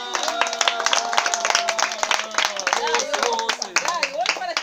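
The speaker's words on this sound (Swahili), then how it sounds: "pigeni makofi tena" Children clap their hands together in a quick, uneven burst, close by, while voices talk and call out over the clapping.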